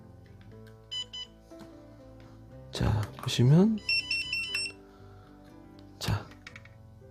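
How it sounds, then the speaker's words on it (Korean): Short electronic beep patterns from a battery cell balancer working on a new Milwaukee M18 five-cell battery, repeating in brief bursts, while someone speaks Korean over them. "그래서 이제 요런 알람이 뜬 거고"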